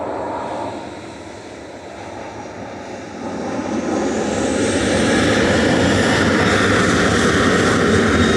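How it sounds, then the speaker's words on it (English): A Ryanair jet departing Manchester Airport for Belfast, its engine roar swelling from a moderate rumble into a loud, sustained, broadband blast as it powers up and climbs close by, with no voices. "Ryanair 191 to Belfast now."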